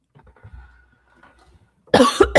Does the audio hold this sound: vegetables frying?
no